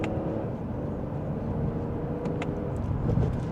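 A 2025 Lexus ES350 in sport mode pulls through second gear under mild acceleration, its steady engine hum and road rumble heard from inside the cabin, rising slightly toward the end with no talking.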